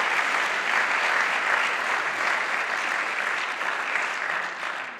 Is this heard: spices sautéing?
no